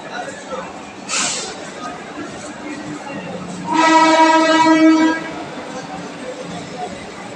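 Busy ambience at Burdwan railway station with background voices; a loud train horn blares steadily for about a second, after a short burst of hissing air.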